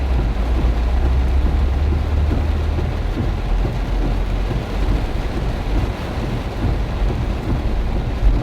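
Heavy rain pours steadily with strong gusting wind in a flooding street, a dense, loud, continuous roar with deep low rumble throughout and no voices.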